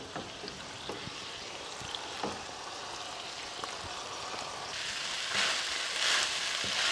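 Cooked rice being stirred into tamarind paste in a pan, a steady soft sizzle with scattered scraping clicks from the spoon, growing slightly louder toward the end, with no voices.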